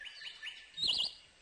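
Short high-pitched bird chirps from the point-and-click adventure game Fearful Tales: Hänsel und Gretel, a bright twittering burst that peaks midway and stands alone with no talk.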